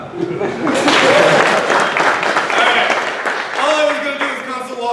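Audience clapping and cheering after a live web app demo in a conference hall, loud and sustained throughout, mixed with voices and whoops.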